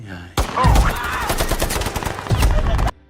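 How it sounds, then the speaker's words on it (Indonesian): Bursts of automatic gunfire as rebels shoot a man and his bodyguards, loud close rapid shots over about two and a half seconds, ending abruptly. "kelompok Abu Sayyaf ini menembak Petrov berikut para pengawalnya."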